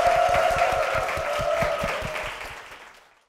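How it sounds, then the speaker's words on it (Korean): A church audience applauds, a dense burst of clapping that holds steady and then fades out to silence near the end, with a faint lingering tone underneath. "우리 박수를 모시겠습니다."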